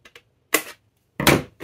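Excess paper is trimmed from a photo album page with a few short, close snips in quick separate bursts, two small ones followed by two louder ones.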